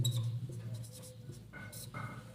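Chalk or marker scratching across a board as a teacher writes during a physics lesson on electric charge, with short strokes and taps over a steady low room hum.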